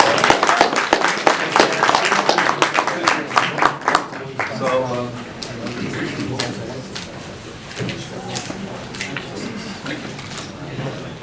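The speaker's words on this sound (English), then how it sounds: "So can we give him a round of applause while he comes?" Audience at a real estate summit applauds as Dr. Joe Samuel comes to the stage, a dense burst of clapping at first that thins into scattered claps and murmuring over the following seconds.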